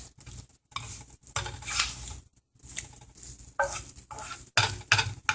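Eggs sizzle and cook in a pan, with several short bursts of scraping, pressing and flipping from a spatula against the pan, broken by brief quiet gaps.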